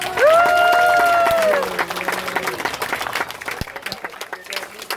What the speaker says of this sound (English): give Andrew a big round of applause